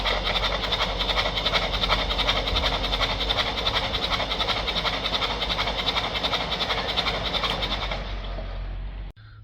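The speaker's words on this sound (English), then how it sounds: "Let's just turn the engine over," A Citroën C3 1.5 with a cylinder 4 misfire cranks over in a steady, loud, continuous whirring drone that runs unbroken for about eight seconds, then cuts off abruptly.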